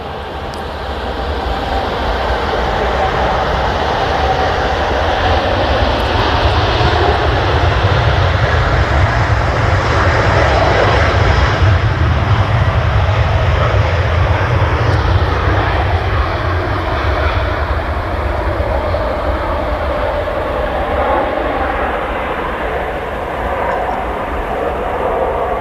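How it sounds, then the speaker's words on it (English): A Saudi Boeing 787 in neon livery departing Manchester Airport, a loud sustained jet engine roar that swells toward the middle and then slowly eases off, with no talk. "this Saudi 787 in the neon livery is departing"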